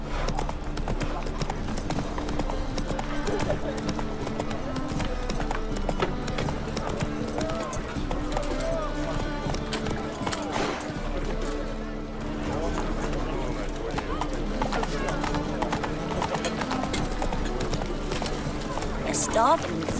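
Roach, a horse in the video game The Witcher 3, runs with a steady, rhythmic clip-clop of hooves that continues throughout, mixed with game ambience and a voice talking.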